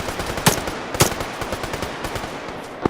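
Automatic gunfire crackles through a military video game firefight, with rapid bursts and a few louder shots standing out against a dense, continuous barrage.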